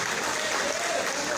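A church congregation claps together during a worship service in a brief burst of dense, loud applause, with a voice speaking over it.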